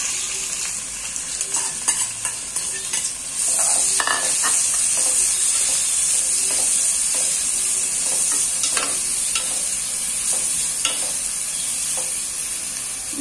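Three onions frying in hot oil for mutton biryani, a steady close sizzle with broadband hiss and occasional crackles and stirring knocks throughout, no talking.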